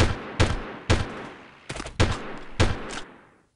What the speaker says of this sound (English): Somebody was shooting at me from on the hill there.